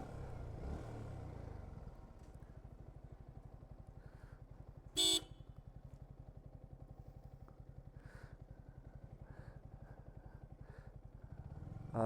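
At a bike service centre, a motorcycle engine idles with a steady low putter, faint and even, broken midway by one short horn toot.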